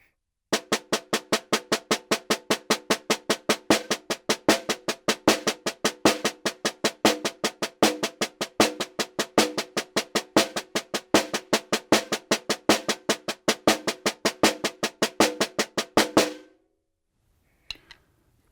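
A snare drum plays a steady stream of sixteenth-note strokes mixing soft taps with louder accents, close and alone, for about sixteen seconds before stopping.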